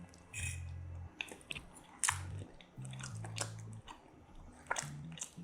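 Someone chewing a bite of cooked frozen salmon steak during a taste test, close and soft with moist biting and squishy mastication sounds, alone without talk.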